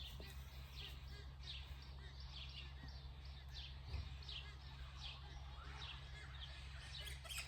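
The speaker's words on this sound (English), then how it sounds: "So much variety of bird noises out here today." Assorted birds chirp and call intermittently at a distance over a low steady hum, fairly faint and scattered across the stretch.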